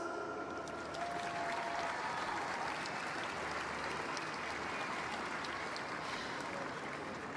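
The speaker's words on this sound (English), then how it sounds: "a round of applause" A crowd applauds steadily at Croke Park during the All Ireland Senior Camogie Final. The clapping is a dense, continuous wash of many hands that holds at an even level throughout, with no voices standing out.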